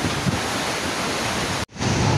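Typhoon-strength wind roars and buffets the microphone continuously, with a brief dropout near the end before the gusting resumes.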